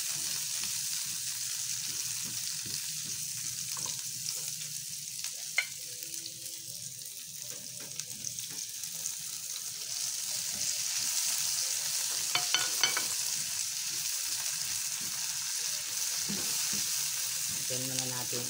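Chicken adobo frying and being stirred in a pan, a steady broadband sizzle with scattered utensil scrapes and clinks and a faint running-water wash beneath, continuous and close throughout with no talking.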